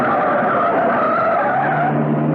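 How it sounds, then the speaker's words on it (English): A van swerves on a narrow road, tires skidding with a loud, sustained squeal over engine noise, close and continuous for a couple of seconds. "The van approached and swerved."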